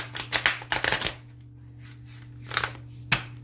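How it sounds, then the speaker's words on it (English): A large, old tarot deck shuffled casino style, with two bursts of papery, leathery riffling followed by quieter gaps and a couple of short card snaps, close by and alone over a low hum. "Let's give this a different type of shuffle, and let's go casino style"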